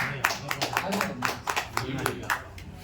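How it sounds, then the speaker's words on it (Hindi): Audience clapping to welcome a poet at an Urdu poetry gathering, with distinct, uneven hand claps, fairly close and moderately loud, continuing for a few seconds. "जोरदार तालियों से उनका इस्तकबाल"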